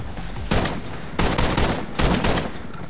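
Shotgun blasts in a video game: three loud, close booming shots spaced about three-quarters of a second apart, each with a broad crack and a short ringing tail.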